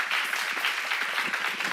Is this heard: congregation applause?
yes